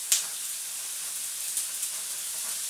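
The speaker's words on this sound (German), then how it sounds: "Wenn das Öl heiß geworden ist, kommen erstmal die Zwiebeln in die Pfanne." Onions sizzle in hot oil in a frying pan, a steady broadband hiss throughout with a couple of faint pops and crackles, close and continuous.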